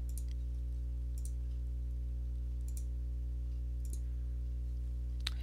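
A computer mouse clicking during CAD sketch work, about six sharp, isolated clicks at an uneven pace over a constant low electrical hum, close and quiet, with no talking.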